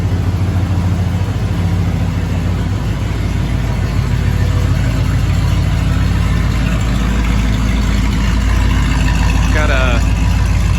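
A carbureted 1987 Ford Econoline E350 conversion van idles steadily with a low, continuous engine rumble and exhaust note, heard up close throughout with constant loudness.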